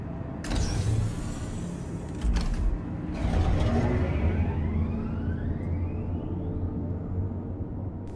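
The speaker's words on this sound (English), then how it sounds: "Careful, doors are now closing." Train doors in the video game Star Citizen hiss and slide shut with a couple of clunks, followed by a rising electric whine as the train begins moving over a low hum.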